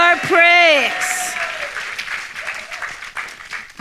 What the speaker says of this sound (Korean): Jesus a great big hand.